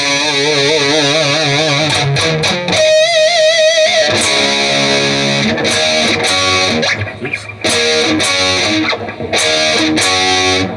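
Distorted electric guitar plays a chorus riff, loud and close, with wavering whammy-bar dives, sustained bent notes and choppy palm-muted chugs; a brief spoken interjection slips in.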